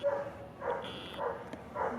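Neighborhood dogs bark outdoors at a distance, several short bursts in an irregular rhythm, moderately faint over quiet background.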